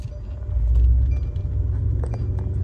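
A Mercedes-Benz coupe with a transmission fault, stuck in first gear, its engine idling in a steady low rumble close by, with faint clicks and rattles over it and no talk.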